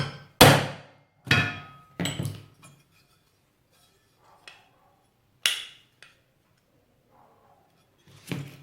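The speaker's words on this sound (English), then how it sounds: "I'm just going to use this little punch that I made out of an old file just to reseat the little brass lugs" A homemade punch, filed from an old file, is tapped to reseat the brass lugs of a Union rim lock: several sharp, close metallic hammer blows, widely spaced, with a few lighter taps and quiet gaps between.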